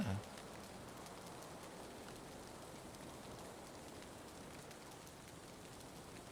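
Continuous rainfall in Valheim, a soft constant hiss of drops on surfaces with a short thump at the start, otherwise unbroken and fairly quiet.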